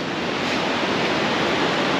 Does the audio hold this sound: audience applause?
no